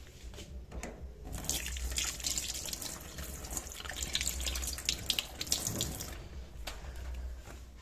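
A kitchen tap runs steadily while hands are washed beneath it, a continuous close splashing hiss that surges and thins as the hands move through the stream.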